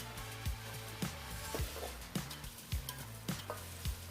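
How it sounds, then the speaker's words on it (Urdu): Peeled, chopped tinda (apple gourd) fries in hot oil with a constant sizzle close by, while a utensil scrapes and stirs the pan in a regular rhythm, roughly every half second, and no one speaks. "تو آئل تھوڑا گرم ہونے کے بعد ہم نے یہ پہلے سے جو کٹے ہوئے ٹینڈے تھے، چھیل کے کاٹے ہوئے تھے، وہ ہم ڈال دیں گے اور ہم تھوڑی دیر اس کو فرائی کریں گے۔"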